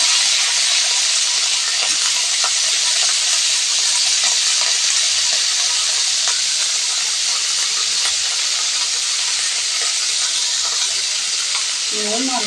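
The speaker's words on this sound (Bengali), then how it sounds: "নুন আর হলুদ দিয়ে ফুলকপিটাকে আমি ভেজে নেব" Steamed cauliflower, seasoned with salt and turmeric, fries in hot oil in a wok, giving a loud continuous sizzle and hiss close by with occasional scraping of stirring.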